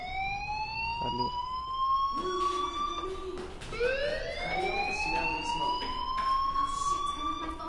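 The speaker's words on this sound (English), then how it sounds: "Hey, do you hear that fire alarm? That means you should be outside." A school fire alarm in the video game Life is Strange rings as a rising, wailing siren tone that repeats steadily and loudly across the whole stretch, with no talk over it.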